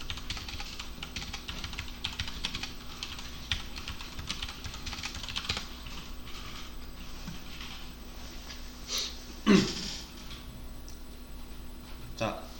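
Keys on a computer keyboard are typed in a dense, steady run under a steady room hum, with one louder clack near the end, as a command is entered in a Windows command prompt.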